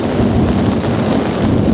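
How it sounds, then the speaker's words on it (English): Steady, loud roar of a thunderstorm directly overhead at a campsite on the Natchez Trace Parkway in Mississippi in the middle of the night, a dense low rumble of thunder with rain and wind filling the whole moment. "there's a massive, massive storm overhead."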